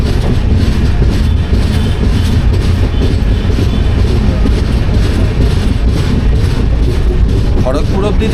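The Ispat Express runs on rails between Kharagpur and Santragachi on the South Eastern Railway, a loud continuous rumble and rattle of wheels and carriages heard from on board, with faint clicks and a brief squeal near the end.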